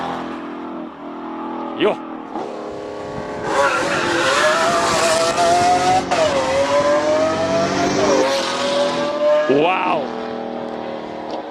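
A small three-cylinder turbo GR car attacks a hill climb at Speed Classic Cape Town, its engine revving hard up through the gears with sharp shifts and tire squeal, while onlookers exclaim nearby.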